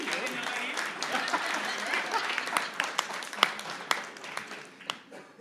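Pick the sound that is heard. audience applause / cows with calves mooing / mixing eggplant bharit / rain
audience applause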